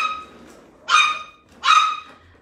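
A small dog gives two loud, close barks about a second apart, each a sharp yapping burst over quiet room background.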